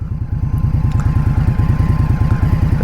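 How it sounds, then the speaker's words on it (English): A 2023 Indian Scout Rogue motorcycle idling at a stoplight, a low, even, loping thump from the engine that repeats steadily and sounds close and strong. "it idles low, sounds good"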